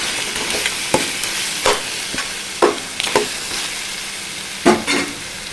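Onion, green chilli and ginger frying in a pan for crab curry, a continuous loud sizzle broken by several scraping stirs of a spoon.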